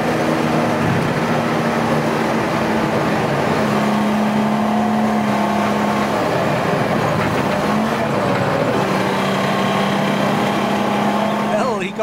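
A rear-wheel drive Ford Capri race car engine drones steadily on track, loud and continuous with shifting pitch as it accelerates and changes gear, under a commentator talking throughout.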